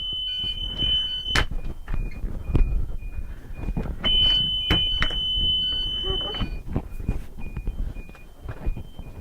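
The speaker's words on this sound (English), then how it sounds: "The buzzers work properly." Repeated high electronic buzzing tones from a school bus emergency exit buzzer, some sustained for a couple of seconds, sound over clattering handling noise and faint background talk.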